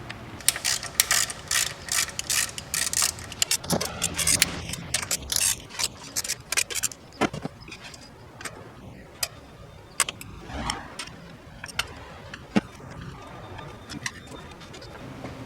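Valve cover bolts being loosened with a ratchet on a 2006 Mitsubishi Outlander engine, heard as rapid bursts of clicking pawl ticks separated by short pauses and occasional metallic knocks, close and clear with no talking.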